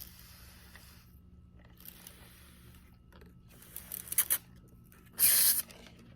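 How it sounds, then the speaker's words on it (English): Spray bottle misting seed-starting pots, several short hissing spritzes at close range, the last one longest and loudest, in an otherwise quiet setting. "I'm going to go ahead and mist these again before I put the seeds in"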